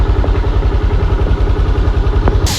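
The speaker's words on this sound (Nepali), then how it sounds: "हामीले स्कुटी बाइक पार्किङ गऱ्यौँ" A scooter engine idles close by while being parked, a steady low throbbing putter that runs throughout, with a brief hiss near the end.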